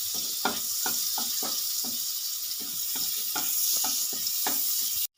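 Butter melting in a little white oil in a wok gives a steady close sizzle, broken by a few soft clicks and stirring taps, with no voices.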